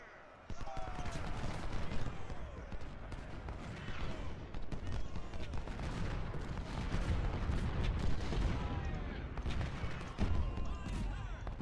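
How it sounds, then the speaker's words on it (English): Skirmishers firing volleys in the Ultimate General video game, a continuous crackle of scattered musket shots and distant booms across a battlefield, with a player talking over it. "I'll start using my skirmishers to put some fire on them"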